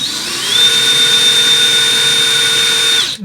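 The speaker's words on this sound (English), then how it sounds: "Just poked a hole in the wall with my screw bit" A power drill drives a screw bit through a sheetrock wall, giving a steady, loud, high-pitched whine that holds for about two and a half seconds after a brief rising start, then cuts off abruptly.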